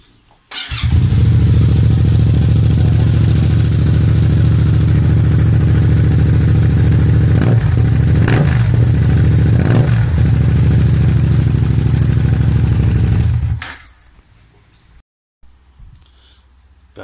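A 2019 Yamaha MT07 fitted with an Akrapovic titanium exhaust with the dB killer removed and the baffle modified, running loud and close with a deep steady drone and a few throttle blips, then cutting off, leaving near silence.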